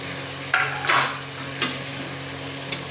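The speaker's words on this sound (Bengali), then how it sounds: "দিয়ে আমি এই মশলাটাকে একটুখানি কষাবো" A masala of tomato, green chili and ginger sautéing in a pan for a shankar fish dish: low continuous sizzle under a few sharp spatula scrapes and knocks, close by, no voices.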